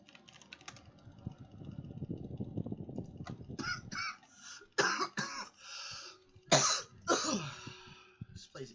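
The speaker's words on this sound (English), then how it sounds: "Please excuse my coughing" A sick person coughs repeatedly in several harsh, close bursts, with throat clearing after a stretch of keyboard typing.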